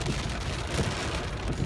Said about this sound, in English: Well, there's the rain.